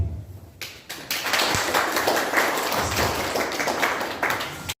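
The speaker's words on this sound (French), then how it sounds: "On va applaudir" Sustained applause from a large crowd at a wedding, dense clapping that starts abruptly and carries on steadily.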